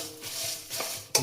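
Masala spices are dry-roasted in a pan for chicken ghee roast, stirred with a utensil in soft scraping strokes and a light sizzle, ending in a sharp metallic clink against the pan.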